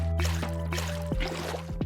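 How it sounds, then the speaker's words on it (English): Water placed from a bucket onto a dirt plot in Minecraft, short splashing and pouring gurgles in a few quick bursts over steady background tones, close and moderately loud. "We can also add water"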